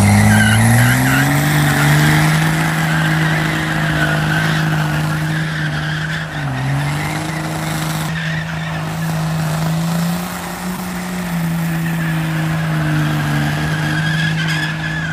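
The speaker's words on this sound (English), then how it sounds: "I've never seen him do a burnout." A turbocharged side-by-side UTV does a burnout, its engine holding a loud, sustained, wavering drone with tires skidding continuously throughout, close and dominant with no talk over it.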